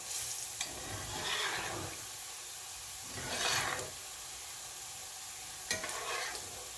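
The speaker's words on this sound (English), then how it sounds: "Give it just another minute sitting in that hot grease and we'll take it out." Whole okra pieces frying in hot grease, a soft steady sizzle broken by a few swelling bursts of bubbling and occasional sharp clicks from stirring.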